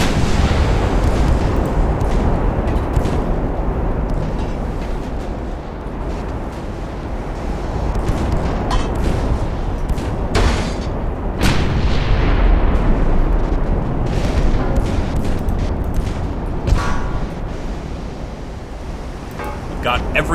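Naval artillery gunfire in the warship game Ultimate Admiral Dreadnoughts: deep rumbling booms roll over a constant ocean-like roar, with several sharper blasts standing out amid loud battle noise, and a voice talks over part of it.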